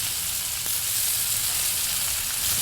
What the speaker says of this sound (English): My bacon sounds like it needs a little help